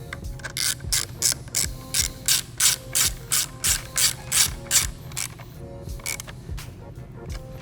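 Ratchet wrench tightening a battery terminal nut in a VW MK7 GTI engine bay, a steady series of about a dozen loud, close clicking strokes in even rhythm, slowing and fading near the end.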